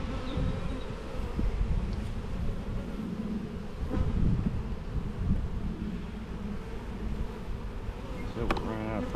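Honeybees hum densely around an open beehive, a close, steady buzzing swarm with occasional louder passes by single bees.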